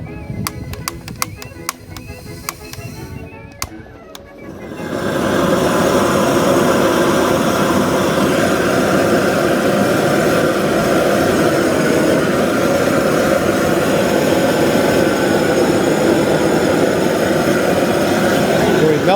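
A cheap TEMU flamethrower roars loud and steady for about fifteen seconds, close by, as it burns a piece of wood outdoors in wind. A few sharp clicks and quieter rustling come before the flame starts.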